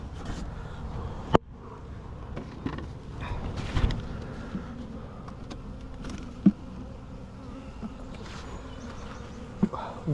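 Honey bees buzzing around an opened hive, a soft continuous hum close by, broken by a few sharp clicks and creaks from the frames and woodenware.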